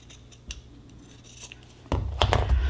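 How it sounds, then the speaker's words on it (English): Scissors cutting quilting fabric to a straight edge, a few faint snips at first, then louder, closer crunching cuts that come in quick succession toward the end. "I'm just going to cut this straight up so I can have a straight edge."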